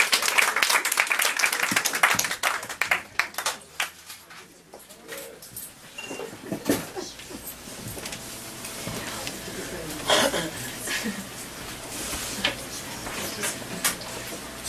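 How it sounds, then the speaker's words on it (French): An audience applauds at a tribute event, clapping loud and dense at first, then thinning into scattered claps that swell again near the end, with voices heard among them. "on l'applaudit encore une fois."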